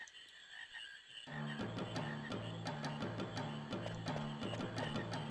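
Frogs croak in the Final Fantasy IX video game, giving a regular, repeating series of clear croaks over a steady game ambience after a brief quieter opening.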